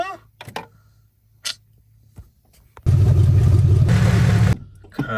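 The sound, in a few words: abandoned second-generation Mitsubishi Eclipse engine cranking and starting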